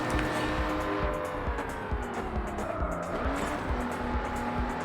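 A Lamborghini in a racing video game brakes hard on a track, the engine note falling while tires squeal and scrub, all loud and continuous throughout with no talk.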